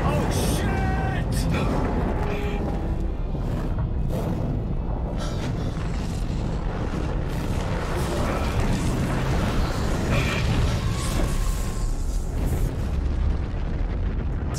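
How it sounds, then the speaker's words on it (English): A loud, continuous explosion roar from the sci-fi horror game Dead Space 3, dense booming and crackling debris that fills the whole stretch, with a voice talking over it throughout. "Just another explosion!"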